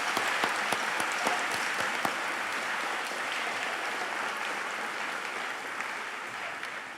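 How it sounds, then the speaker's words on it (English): An audience applauds students at a middle school promotion ceremony, a few crisp early claps swelling into a broad, even wash of clapping that slowly fades over several seconds. "Let's give them all a round of applause"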